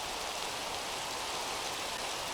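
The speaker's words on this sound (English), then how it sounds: "this rain is really loud" Minecraft rain in the Skyfactory 4 modpack pours as a loud, steady, dense hiss with no breaks, alone and without voices.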